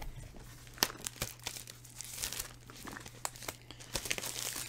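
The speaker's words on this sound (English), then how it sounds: "how many of you are thumbnail openers on the cellophane?" A thumbnail tears cellophane wrap off a new tabletop game box, giving close, quiet crinkling and ripping with scattered sharp crackles throughout.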